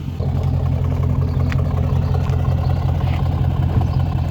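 A Mercedes CLS 500 AMG with automatic gearbox idles very low and steady, a continuous deep engine rumble close by, with no one speaking.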